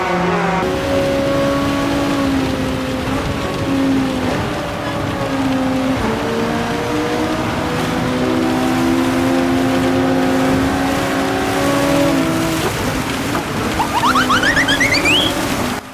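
Several racing cars, among them a Ferrari, in Gran Turismo 7 at Dragon Trail Gardens during a Manufacturers Cup race, their engines droning loudly and steadily with shifting pitches, with a rising higher-pitched whine near the end.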